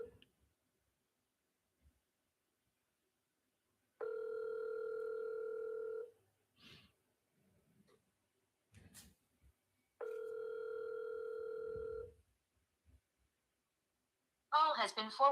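A telephone call ringing out before it goes to voicemail, with two long ringback tones separated by a pause of near silence and small handling noises, then a brief electronic voice at the end.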